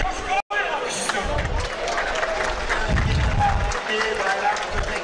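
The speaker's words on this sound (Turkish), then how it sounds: "Geleceğin baş pehlivanlarına coşkulu bir alkış istiyorum." Crowd at an outdoor oil wrestling (yağlı güreş) event in Seydikemer, Muğla applauds young wrestlers. Dense clapping and crowd noise run throughout, mixed with loud amplified announcing and low rumbling bursts.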